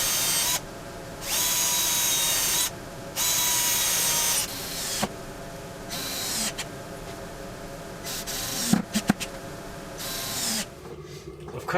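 Power drill driving screws to join two cut pieces of MDF for a sander storage rack, several loud bursts of high motor whine separated by pauses, ending with clunks and handling knocks of the workpiece.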